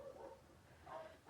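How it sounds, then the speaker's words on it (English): A dog indoors gives a couple of short, faint whimpering yelps, one near the start and another about a second later, reacting to unfamiliar noises from next door. "sorry about the dog."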